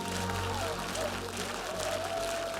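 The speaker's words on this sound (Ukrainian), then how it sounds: "Наша зала аплодує стоячи." A seated hall audience rises for a standing ovation after a singer's knockout-round performance on a Ukrainian televised singing contest, sustained dense applause filling the room with steady crowd noise and some talk underneath.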